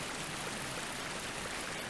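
Steady rushing water in Dark Souls II, an even broadband stream flowing continuously and fairly faint, with no talk.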